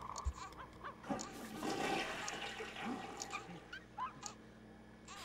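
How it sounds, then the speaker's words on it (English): A toilet flushing inside a house in The Sims 2, a loud watery rush and gurgle lasting several seconds, alone with no talk. "It kind of loses its mystique of them not having a toilet when the flushing is that loud"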